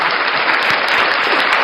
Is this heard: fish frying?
no